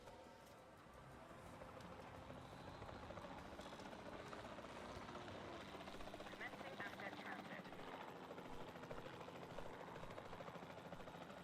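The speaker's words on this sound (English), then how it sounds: "We're just getting our helicopter and just kind of float above them." Helicopter hovering in the video game Jurassic World Evolution 2, a steady whirring drone that runs through the whole stretch with game sounds mixed in.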